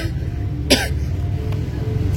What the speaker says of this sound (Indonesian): maaf batuk ya, kerekam ya gitulah